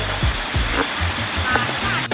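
A small waterfall pours over rocks at a stream in Thailand, giving a steady close rush of splashing water with no talking.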